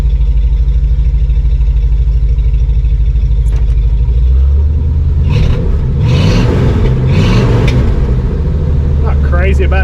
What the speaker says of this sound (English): That's pretty good idle, I think.